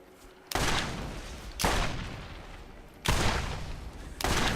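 Revolver fire and explosions in the Borderlands video game: four loud, booming blasts about a second apart, each decaying with a rumbling tail and no pause of silence between them.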